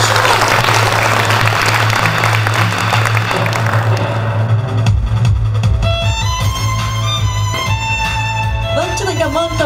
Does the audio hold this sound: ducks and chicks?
no